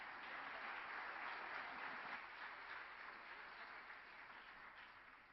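Audience applause for panelists at the close of a panel discussion: a steady, dense wash of many hands clapping that holds evenly and then tapers slightly toward the end, with no talk over it.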